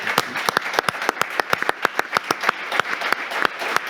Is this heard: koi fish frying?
no